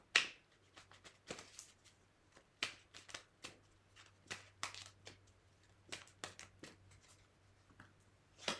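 Tarot cards shuffled and drawn in a series of crisp, irregular snaps and slaps, close and fairly quiet, with no talking.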